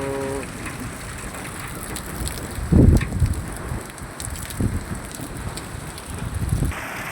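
Steady rain pours outdoors in Tumdanda with wind blowing, a constant hiss broken by a few louder gusts and thuds, with no voices.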